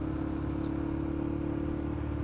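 Ducati Monster S4R V-twin motorcycle engine, ridden in Texas hill country, gives a steady low drone with a throbbing pulse, faint and heard alone in a short stretch.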